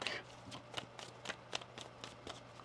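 Tarot cards are shuffled by hand in a quiet room, a brisk series of crisp riffling snaps and soft slaps that repeat at an uneven pace, close and fairly faint.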